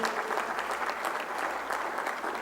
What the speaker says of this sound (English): I think he really deserves an applause